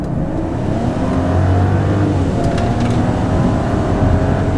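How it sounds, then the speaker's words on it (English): A 2024 Mercedes-Benz GLS SUV with the entry-level engine accelerates hard up a freeway on-ramp, its engine note climbing steadily under loud road and wind roar heard from inside the cabin, with no talking. "we're gonna get on this freeway on-ramp one more time and gun it and see how this thing feels"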